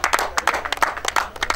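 Crowd applause for a runner at the 2021 Source of the Nile Marathon athletics event: steady, dense clapping from many hands, fairly close, with a commentator's voice faintly under it.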